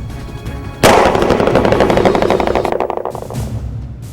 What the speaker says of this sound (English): see what happens when a Mercedes-Benz side window with only 2 layers of armor bond protective shield applied is fired on